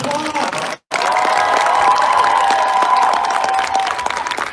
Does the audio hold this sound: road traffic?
no